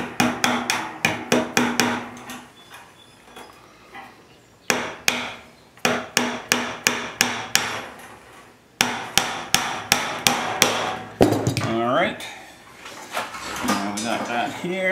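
Someone drives 3/4-inch fence staples into wood with a hammer, in quick runs of sharp, ringing blows separated by short pauses, while cattle moo in the background near the end.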